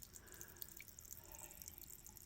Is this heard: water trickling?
yes